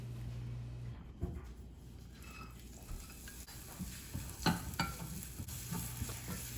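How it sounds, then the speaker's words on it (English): Taro and shallots stir-fry in a pan with a steady, moderate sizzle, broken by occasional scrapes and clicks of a utensil stirring the pieces. "first we're gonna stir fry the taro with the shallots"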